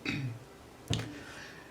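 A woman with a dry, irritated throat coughs and clears her throat twice at moderate level, a short rough burst followed by a sharper one, with no talk.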